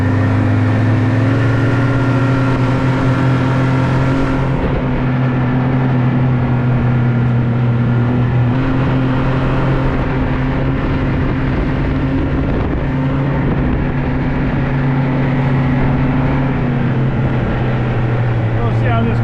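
A snowmobile sled drives along a snowy trap line, its engine drone loud, close and constant throughout with slight shifts in pitch, while someone talks over it now and then.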